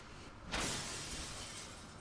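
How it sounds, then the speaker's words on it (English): Window glass shatters with one sudden burst in the game Spirit Hunter: Death Mark, followed by a bright scattering tail of fragments over steady background noise, faint overall. "Smashed through the window and off into the night."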